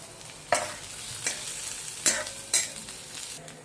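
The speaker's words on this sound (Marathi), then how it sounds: "ते ओलं खोबरं आपण कांद्याबरोबर भाजून घेऊया" Onion and freshly grated coconut roasting in a pan for Maharashtrian misal, a soft constant sizzle broken by about five sharp scrapes of a spoon stirring, close and quiet with no voices.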